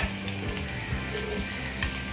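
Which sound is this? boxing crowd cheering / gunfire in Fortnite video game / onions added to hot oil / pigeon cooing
onions added to hot oil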